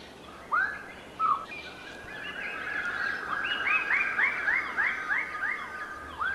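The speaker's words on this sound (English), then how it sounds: "These lesser birds of paradise are displaying on a communal tree." Lesser birds of paradise call from a communal display tree in the New Guinea forest: two sharp whistled notes, then a loud, rapid series of repeated rising calls close by.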